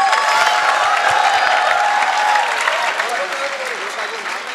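Audience applause and cheering at a university event in an amphitheatre, a dense steady wash of clapping with a few shouts, loud and close, fading slightly toward the end.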